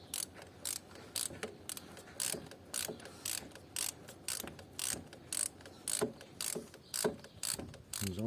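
A ratchet wrench loosens car spark plugs in quick repeated clicking bursts, a close, crisp rhythmic ratcheting that continues steadily with no talking.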